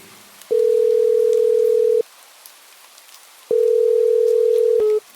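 A telephone ringback tone from an outgoing call sounds loud and steady, two long beeps of about one and a half seconds each separated by a pause, over faint rain in the background.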